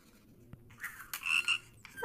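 A pet frog in the video game Bash the Teacher gives a few short, close croaks in quick succession over a quiet background, with no talk.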